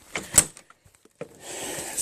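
A locked door at a lakeside property is tried by hand, giving a couple of short, close rattling clicks before a quiet pause and another brief knock, then a faint steady hiss.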